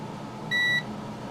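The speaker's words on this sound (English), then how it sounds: "that beep you heard was me coming over and just touching the pad" A single short electronic beep from a multimeter's continuity test rings out as the probe touches a solder pad on a Broadway Limited ES44AH model locomotive, clear above a quiet room hum.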